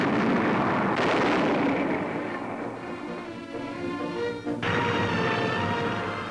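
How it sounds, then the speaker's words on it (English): A 75mm cannon fires from a World War II warplane in 1943 newsreel footage, delivering heavy, booming blasts with rumbling roar between shots, loud and unaccompanied by talk. "And 75mm cannon, firing from the sky, can and have sunk a destroyer."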